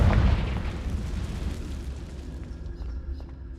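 A Confringo blasting spell explodes in Hogwarts Legacy, a heavy boom at the start whose low rumble decays slowly over a few seconds, with faint ticks and a thin tone lingering in the quiet tail.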